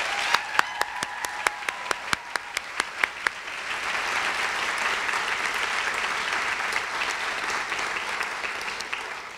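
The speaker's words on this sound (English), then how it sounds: "I think that deserves an applause" Applause at a Black History Month lecture: a few distinct, evenly spaced claps from nearby hands first, then the whole audience joins in a broad, steady round of clapping that carries on for several seconds.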